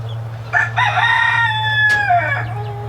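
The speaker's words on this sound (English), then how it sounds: "this one here is our rooster that was mixed in with the pullet batch" A young rooster from a pullet batch gives one loud, close crow, drawn out and slightly falling at the end, over a steady low hum.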